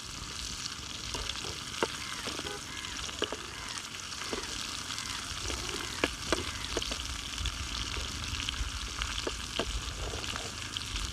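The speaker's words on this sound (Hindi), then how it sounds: "पाँच मिनट में बस ये फ्राई हो जाएंगे" Prawns fry in a karahi outdoors, giving a steady, dense sizzle with scattered sharp pops and crackles throughout, close and fairly loud with no talking.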